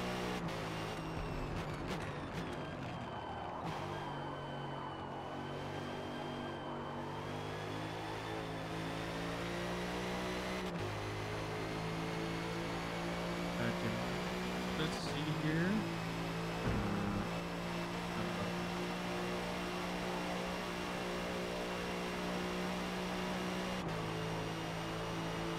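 A Ferrari GT3 race car engine drones continuously in the Forza racing game, with sustained tones that shift pitch through gear changes and revs over a long stretch, and some speech mixed in faintly.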